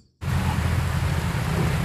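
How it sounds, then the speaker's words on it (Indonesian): Rain falls steadily at a campground in Pangalengan: a dense, constant hiss and patter that starts abruptly after a brief silence and stays loud and close. "Ya, Kang Besal, ini sambil hujan-hujanan ini"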